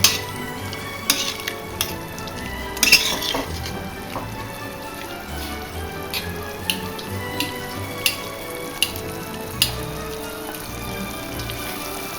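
Red wine simmering in a pan with pears and spices for a Christmas meal: a soft, steady bubbling hiss with scattered sharp pops and ticks throughout, close and fairly quiet, no voices.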